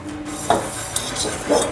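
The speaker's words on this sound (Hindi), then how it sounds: "तो घिस रही हूँ मैं, सब बर्तन एक बार नहीं घिसूँगी" In a home kitchen, dishes and utensils are scrubbed by hand, with scraping and several sharp clinks of metal and crockery at close range and no speech.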